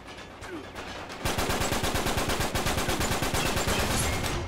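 Rapid automatic gunfire in an Uncharted 3 multiplayer match, loud and close, a fast steady burst of shots starting after a quieter stretch of scattered reports and continuing without pause.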